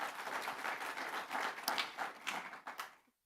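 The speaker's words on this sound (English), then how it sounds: "Professor Herman Agnes, with a welcoming warm round of applause." An audience claps in a warm round of applause to welcome a professor at a congress opening session; steady, moderately distant clapping that holds for about three seconds and then stops abruptly.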